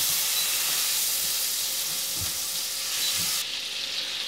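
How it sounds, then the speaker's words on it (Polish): Half a stick of butter melting and sizzling in a hot frying pan, ready for frying breaded ground-pork cutlets; a steady, close frying hiss runs throughout, with a faint clink or stir partway and no talk. "Teraz będę ją smażyła na rozgrzanym tłuszczu. Użyję masła."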